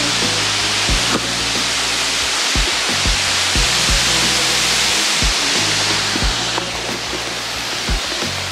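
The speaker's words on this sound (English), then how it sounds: "so let's go enjoy the waterfall" Loud, constant roar of Zaina Falls in Nyeri, Kenya, dense and unbroken, with occasional low thumps of wind or handling noise beneath it.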